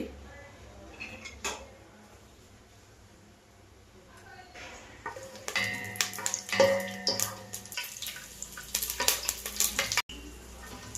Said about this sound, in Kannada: ಸ್ವಲ್ಪ ಎಣ್ಣೆ ಕಾದ್ಮೇಲೆ ಗೋಡಂಬಿ ಹಾಕ್ಕೊಳ್ತೀನಿ